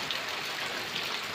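Heavy rain pours down in a village setting in India, a dense, continuous hiss that fills the whole moment evenly, with no voices.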